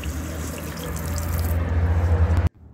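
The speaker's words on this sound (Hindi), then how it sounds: "ये देखते आप इन सभी चीज़ों को अच्छे से धो लिया जाए" Tap water runs steadily into a sink while potatoes and onions are washed for Himachali-style aloo pyaz parathas, a close continuous splashing rush that stops abruptly near the end.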